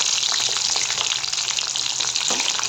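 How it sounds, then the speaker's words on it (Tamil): Cut brinjal pieces frying in hot oil give a loud, steady broadband sizzle that fills the whole clip, with faint stirring scrapes underneath and no voices. "நம்ம கத்திரிக்காயை நல்லா கட் பண்ணி இந்த மாதிரி எண்ணெயில் நல்லா பொரிச்சு எடுத்துக்கலாம்."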